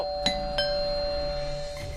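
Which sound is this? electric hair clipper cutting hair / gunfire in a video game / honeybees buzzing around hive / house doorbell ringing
house doorbell ringing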